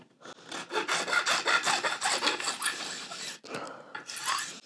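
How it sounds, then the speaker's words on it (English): A file scrapes rhythmically across guitar fret ends on a handmade guitar, about a dozen quick close rasping strokes, then a brief pause before a few more. "get those fret ends filed down a bit."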